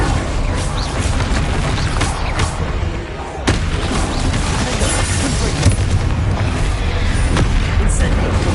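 Bombarda blasting spells explode repeatedly in Hogwarts Legacy, loud booming bursts landing every second or two amid crackling game combat noise, with one sharp blast standing out midway.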